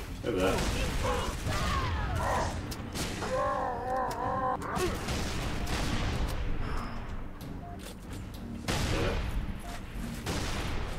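Rapid bursts of video game gunfire from Halo 3: ODST crackle almost continuously and loudly, with mechanical clatter and a voice talking over parts of the firefight.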